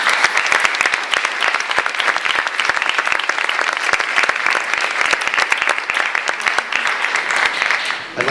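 A debate audience gives another round of sustained applause for both debaters, thick continuous clapping from many hands, loud and steady before fading slightly at the end.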